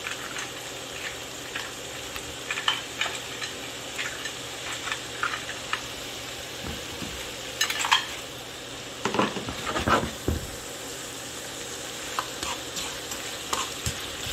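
Shrimp for pasta pescatore frying in a pan, a steady sizzle with scattered scraping stir strokes and a few louder clatters midway, no talking.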